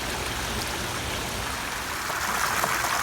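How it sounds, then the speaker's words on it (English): Water trickling and splashing steadily over rocks in a small pondless garden waterfall, a continuous close, even wash of falling water with no talking. "here's another example of a pondless waterfall at Aquascape that disappears under"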